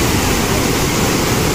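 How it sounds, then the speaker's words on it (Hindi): Roaring floodwater surges under a bridge near Rajnandgaon, making a loud, steady, close broadband rush with no break or voices. "शायद अपने हाईएस्ट पानी का आवाज़ होगा"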